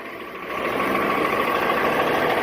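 A fire truck's engine runs outdoors as a steady, loud broadband rumble, rising slightly after the first half second and holding without pauses.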